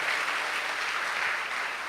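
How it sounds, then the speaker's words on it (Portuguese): An audience applauding at a church service, a steady, dense wash of many hands clapping together, sustained and fairly distant, with no talk over it. "Vocês são maravilhosas, aplauda o Senhor Jesus"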